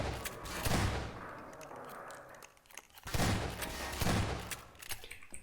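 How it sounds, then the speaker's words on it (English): Shotgun blasts in the video game Half-Life 2, two sharp, loud booms spaced a few seconds apart, each followed by a rattling, echoing tail of debris and gunfire noise. "Let's use my sniper shotgun."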